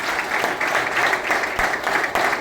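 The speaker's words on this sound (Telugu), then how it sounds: "ఒకసారి గట్టే క్లాప్స్ ఇద్దాం వాళ్ళకి" An audience at a business seminar breaks into steady applause, many hands clapping together in a dense, sustained wash of mid-level loudness that continues throughout.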